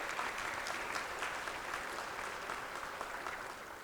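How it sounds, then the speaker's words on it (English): Applause at a mayor's international brunch, a big round for the mayor: dense, even clapping from a crowd, moderately faint and continuous throughout. "Let's give her another big round of applause."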